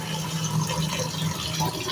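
Fish being washed in water, a steady close splashing and swishing that runs unbroken throughout without talk.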